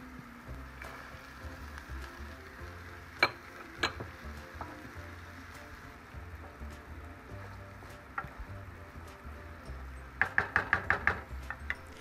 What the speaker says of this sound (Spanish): Agregamos la cebolla y el ajo, lo dejamos sofreír un poco